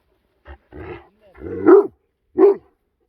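Several separate barks and yips from herd dogs near a flock of Merino sheep on a slope, irregular and fairly close, with gaps of quiet between them.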